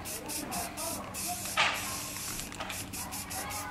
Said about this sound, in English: we're gonna be spraying engine enamel on the roof